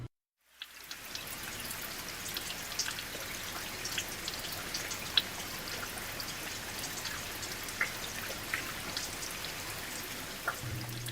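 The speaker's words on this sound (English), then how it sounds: "The dull sound of rain pattering outside drew out the silence." Steady rain patters softly and continuously, with occasional louder drops standing out against the gentle wash.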